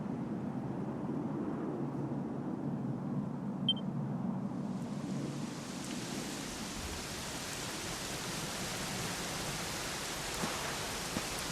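Steady rain in the video game Dragon Quest XI, a constant broadband hiss that swells and brightens midway, with a low rumble underneath at first, falling evenly and continuously without any talk.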